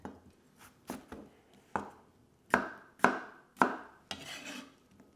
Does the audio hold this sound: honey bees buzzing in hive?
no